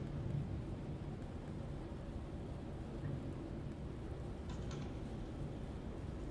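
Steady, soft rain patter on a Boeing 777-300ER in Microsoft Flight Simulator 2020, with a low rumbling drone underneath, continuous and fairly distant, no voices.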